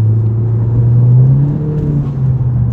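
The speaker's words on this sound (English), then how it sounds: "This is the street exhaust that I'm running from MA Performance." Car with an MA Performance street exhaust accelerating in third gear, a steady close low droning exhaust note that rises slightly in pitch, with no talking.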